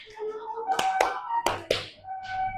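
A few separate sharp claps from children doing the 'tepuk 4' rhythmic clapping pattern in a classroom, spaced irregularly with speech-like tones and voices between and around them.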